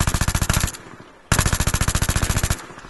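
P90 gunfire in the Battlefield 3 beta, two loud close bursts of rapid automatic fire, the first under a second long and the second longer, separated by a brief pause.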